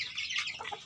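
A chicken hen gives a short, bright cluck, close and alone, lasting under a second.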